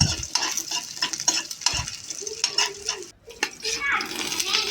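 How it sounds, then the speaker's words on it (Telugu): Onion and green chilli pieces frying in oil in a pan, with a continuous sizzle and repeated stirring scrapes close by, and faint voices in the background. "ఉల్లిపాయ ముక్కలు అయితే వేసి వేయించాను మొదట తర్వాత కొన్ని పచ్చిమిరకాయ ముక్కలు అయితే వేసుకున్నాను"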